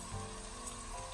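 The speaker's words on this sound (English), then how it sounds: "I've got oil in the pan and I'm going to add all the onions and golden brown them" Onions frying in oil in a pan for a chicken tikka biryani, giving a faint, steady sizzle with no voices.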